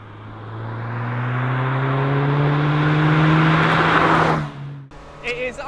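A Lotus sports car drives by at speed, its engine note rising and loud for about four seconds with a steady harmonic drone before cutting off abruptly, followed by a few faint knocks.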